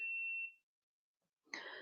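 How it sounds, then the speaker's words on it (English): A GoPro camera gives one sustained electronic beep that fades out, followed after a short silence by a brief burst of indoor noise during a mat Pilates session. "My GoPro's beeping away over there."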